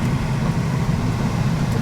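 A 1977 Lincoln Continental Mark V lowrider on airbags is driving, giving a loud, steady low engine rumble with road noise throughout.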